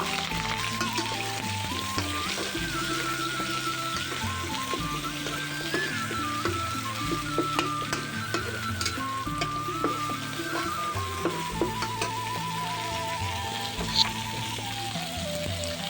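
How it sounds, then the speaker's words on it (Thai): Thai curry paste sizzles and crackles in hot oil, a continuous close frying hiss with occasional stirring scrapes, while music plays in the background. "ใส่พริกแกงลงไปผัดกับน้ำมันให้หอมเลยนะครับ"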